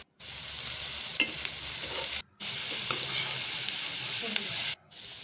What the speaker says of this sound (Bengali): এরপর এগুলিকে ডুবো তেলে খুব ভালো করে লাল লাল করে ভেজে নিতে হবে।